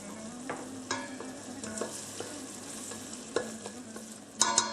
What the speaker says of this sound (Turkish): Şimdi salçayı atalım biraz çevirelim.